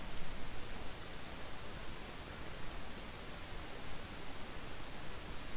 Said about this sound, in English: I'm going to go back with an airbrush, add a little bit more red.